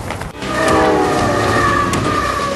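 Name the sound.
Beijing to Lhasa T-27 train running through Tibetan Plateau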